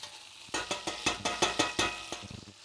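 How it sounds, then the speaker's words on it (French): Pieces of veal sear in a hot casserole pan, hissing and crackling in quick, close bursts, with a run of rhythmic stirring scrapes and a softer sputtering tail. "notre viande qui est en train de revenir tranquillement dans la casserole"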